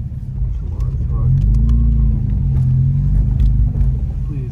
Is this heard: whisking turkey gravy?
no